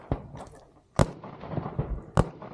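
Three sharp, loud 5.56 rifle shots at an outdoor competition shooting stage, spaced about a second apart, each a hard crack with a short rumbling tail and scattered handling noise between.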